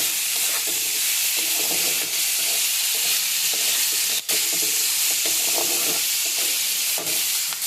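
Onion and garlic frying and being stirred in hot oil for a dried fish curry, a steady loud close sizzle with scraping stir sounds throughout.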